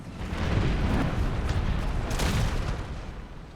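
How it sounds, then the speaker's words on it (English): Cannon fire on a battlefield in the video game Empire 2, heard as a rumbling, booming wash with a couple of dull blasts rolling under sustained battle noise. "My cannon shot might have ripped through my own line."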